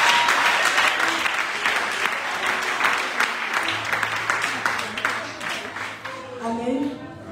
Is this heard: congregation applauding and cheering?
yes